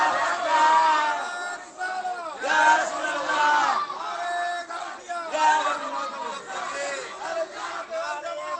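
A mosque gathering's crowd chants takbir together in loud, swelling group shouts that rise and fall in repeated waves, with voices blending into a dense, continuous chorus.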